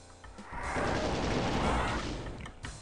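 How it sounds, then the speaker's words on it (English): Chaingun fire in Doom II on the Hell Revealed II map Metal Meltdown, a dense sustained burst of rapid gunfire lasting about two seconds, moderately loud with a booming low end, starting and stopping abruptly. "Guess I'll use the chain gun."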